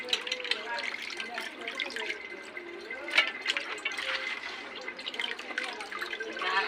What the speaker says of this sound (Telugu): వద్దండి నీళ్ళు కారిపోతాయి